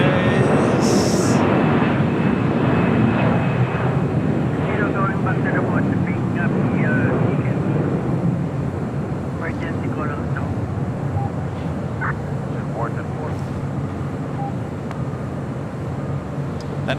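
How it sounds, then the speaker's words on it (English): An ANA Boeing 787-8 Dreamliner passes near LAX on its way to Tokyo Haneda, a loud, steady jet roar that slowly fades a little over the span, with a voice talking faintly underneath. "flying back to Tokyo Haneda, flight 125, 787-8 Dreamliner, heading to 24 left."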